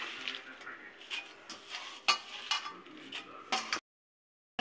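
Fresh spinach leaves go into a pot of chana dal for a palak sabzi, with soft rustling, clinks and light stirring scrapes in a home kitchen before the sound cuts to silence.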